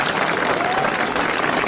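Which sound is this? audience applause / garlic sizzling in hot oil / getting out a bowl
audience applause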